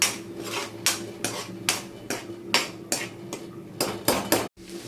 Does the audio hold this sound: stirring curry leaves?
yes